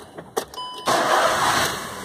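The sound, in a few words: Volkswagen CrossFox car engine starting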